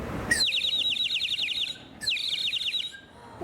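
A bird sings repeated bright chirping phrases in two bursts separated by a short pause, clear and fairly close, with no talking over it.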